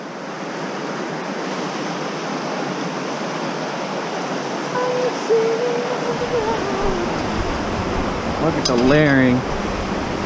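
A mountain creek in the North Cascades rushes in a steady, full roar close by, with someone briefly speaking and a faint whistle-like tone over the water.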